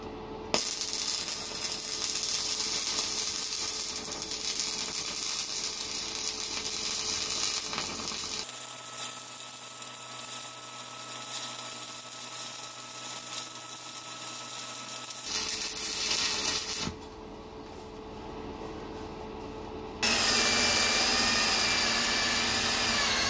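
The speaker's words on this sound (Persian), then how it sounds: "به این نوع جوشکاری میگن فیلت ولد یا جوشکاری گوشه." Electric arc welding of a fillet weld on steel plates gives a steady crackling, hissing sizzle that runs for long stretches and changes tone between passes, with no talk over it.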